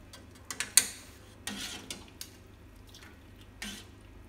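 Fried tofu and vermicelli nuggets lifted from the pan to drain, letting off a few scattered drips and small clinks at irregular intervals, faint and close, in an otherwise quiet kitchen.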